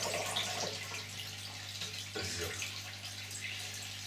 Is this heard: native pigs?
no